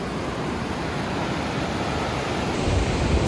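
A river rushes steadily nearby, a dense, constant broadband roar of flowing water with no pauses.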